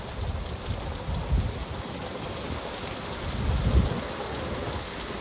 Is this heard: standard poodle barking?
no